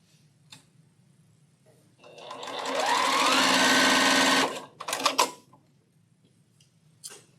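Sewing machine stitching a quilt block, one steady burst of rapid mechanical stitching lasting a couple of seconds, close and fairly loud, followed by a few short clicks and taps as the fabric is handled.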